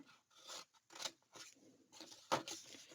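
Paper being cut by hand along a score line while making Halloween decorative cubes from Carta Bella patterned paper, heard as several short raspy snips and rubs spread across a few seconds at close range.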